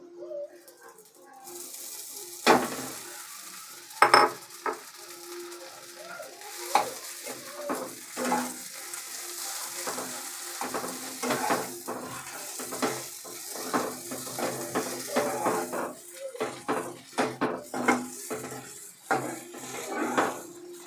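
Grated potato fries and gets stirred in a pan on a medium-low gas flame, with a spatula scraping and clattering against the metal over a constant sizzle, close and fairly loud. There is no talk.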